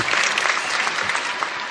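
An audience applauds a speaker with dense, steady clapping from a full crowd, loud and continuous throughout.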